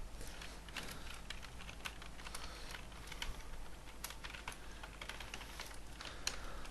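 Steady, continuous keyboard typing on a computer keyboard while writing AngularJS code, a quiet, even stream of soft clicks with occasional sharper key taps, heard alone without talk.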